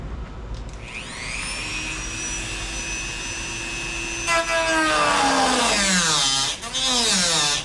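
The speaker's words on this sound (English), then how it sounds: "these are kind of cool little easy locking bits that I bought for my Dremel tool" A Dremel rotary tool spins up to a high, steady whine, then bites into a kayak rudder post part, its pitch sagging and rising under load as it cuts, close and loud.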